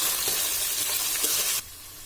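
Tomato sautéing in oil with garlic and chillies for banana stem sambar, a close, dense hiss of sizzling with light stirring that drops off abruptly near the end.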